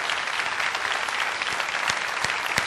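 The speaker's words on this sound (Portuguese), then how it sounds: "Vamos aplaudir ao Senhor pela palavra que Ele trouxe ao nosso coração." Church congregation applauding after a sermon, a steady wash of many hands clapping with a few louder individual claps standing out near the end.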